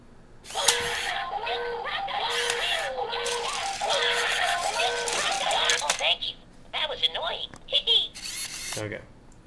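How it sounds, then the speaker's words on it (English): A WowWee Tri-Bot robot in alarm mode set to quiet sounds off with chirpy synthetic electronic tones and whirring mechanical bursts, fairly close, mixed with the robot's own chattering voice. "So that's the alarm mode."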